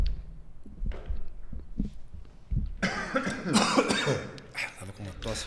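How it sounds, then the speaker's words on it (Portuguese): Several coughs and throat clearings come from different people, bursting out in a busy room with voices murmuring underneath. "O pessoal segura a tosse até o final."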